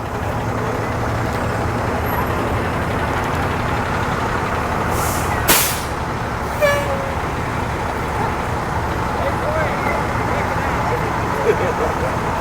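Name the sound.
fire department vehicles passing in a parade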